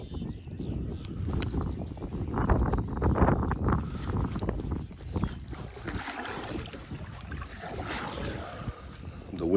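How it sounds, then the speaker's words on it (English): Strong wind gusts buffet a small fishing boat on a lake during bass fishing, a loud rushing roar with microphone buffeting that builds and eases over several seconds, with occasional water and hull sounds underneath. "The wind is my sail, but it's blowing me in the opposite direction."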